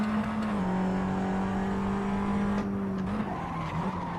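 In a VR racing video game, a car's right front tire locks under braking and skids with a sustained squeal over the engine drone, loud and continuous.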